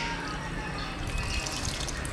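Water poured from one container into another while draining part of a home fish aquarium, a steady splashing trickle heard up close and fairly quiet, continuous for the whole stretch.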